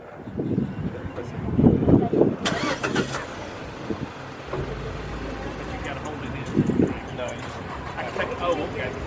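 Push-start vehicle engine starting: an abrupt crank and catch, then a low idling hum, with people talking over it nearby.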